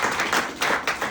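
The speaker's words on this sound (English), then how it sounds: "big round of applause" Short burst of audience clapping at a live business event in Noosa, a dense, even patter of many hands with slight swells, no voices.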